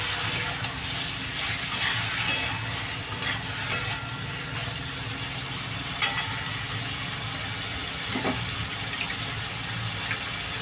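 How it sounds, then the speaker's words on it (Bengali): Prawns for chilli prawns frying in a pan, a continuous bright sizzle with scraping stir strokes and occasional clinks of the utensil, close and steady throughout. "এবার আমি দিয়ে দেবো চিংড়ি মাছটা। চিংড়ি মাছটা দিয়ে আর একটু নাড়াচাড়া দিয়ে নেবো।"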